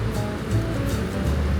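A stream of scooters passing along a street by the Yansan night market in Taipei, a dense, continuous rushing roar of traffic that fills the scene without pause.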